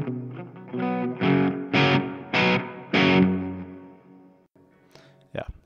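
Electric guitar chords ring out through a Marshall MG100HCFX amplifier on an extreme digital reverb setting, each strum followed by a long wash of echo trailing into near silence.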